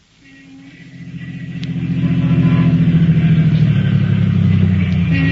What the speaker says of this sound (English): Two men were riding in a car which was pulling to a stop in front of a house in East Baltimore.